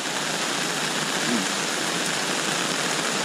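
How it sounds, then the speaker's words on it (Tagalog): Heavy monsoon rain pours down steadily during a flood, a dense, even roar of downpour with no pauses, close and loud, with no one talking. "At ang lakas pa rin ng ulan."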